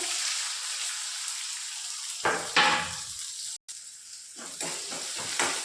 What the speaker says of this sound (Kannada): ಉಳ್ಳಾಗಡ್ಡೆ ಹಾಕಿ ಸ್ವಲ್ಪ ಹುರ್ಕೋಬೇಕಾಗುತ್ತೆ